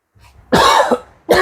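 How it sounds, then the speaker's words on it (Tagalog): A person gives a harsh, close cough after a brief breathy lead-in, followed by the start of another cough, loud and alone. "Kaya pa ako inuubo madaling araw."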